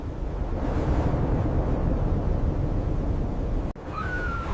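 Strong wind roaring over wet sea rocks with surf beneath, a steady loud buffeting rush that dips sharply near the end before a thin high whistle appears.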